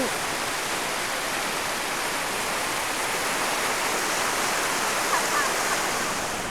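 A multi-tiered waterfall, Tat Yai in Nam Nao, Phetchabun, Thailand, roars in a dense, steady rush of white water, loud and unbroken throughout.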